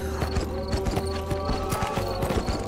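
Steady rhythmic clip-clop of horse hooves at a trot in the video game Red Dead Revolver, loud and close, with a constant background hum and no talking.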